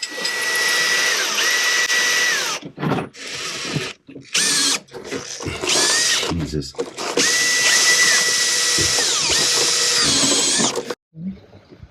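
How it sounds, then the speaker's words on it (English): A power drill whines loudly in long bursts with brief pauses while drilling holes in engine bed risers, its pitch rising and falling as it bites; a voice briefly exclaims once. "So it's time to get a drill. Put some holes in these new engine bed risers."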